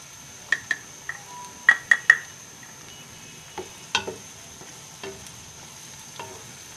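Garlic fries in a pan while a utensil clinks and scrapes against the metal in quick, uneven knocks over a faint sizzle, close and fairly quiet.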